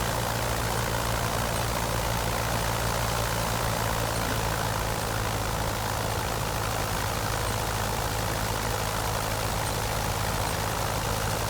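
A vintage OX-5 aircraft engine in a flight simulator gives a steady, loud droning rumble with a constant low hum. It holds unchanged throughout, with no voices.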